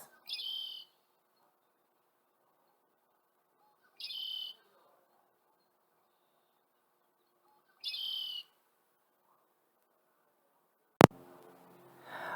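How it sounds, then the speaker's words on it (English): A red-winged blackbird repeats the same short buzzy call three times at steady intervals of a few seconds, followed by a sharp click and faint noise. "a red-winged blackbird has a song that sounds like this"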